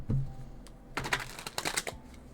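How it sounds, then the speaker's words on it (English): A deck of cards being shuffled, soft riffling flutters in two quick bursts after a faint tap, close and quiet with no talking. "this is a little bit of a beast to try to shuffle"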